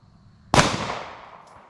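A single close shot from a small Ruger concealed carry pistol: one sharp, loud crack with a quick fading tail outdoors, and nothing else around it.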